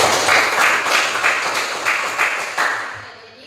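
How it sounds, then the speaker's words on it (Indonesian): A school class claps in a classroom, a burst of mixed hand claps with several louder accents, fading out after about three seconds. "Oke, berikan tepuk tangan satu kali."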